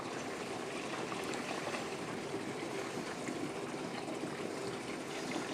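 Diesel fuel pours steadily into a fuel cell of a 1968 Bronco with a Cummins 4BT, a soft continuous gushing wash heard close and fairly quiet, with no voices.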